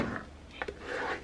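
Paper is wrapped tightly around a piece of chipboard, making a brief soft rustle and rub with a couple of small crinkling taps, close and quiet.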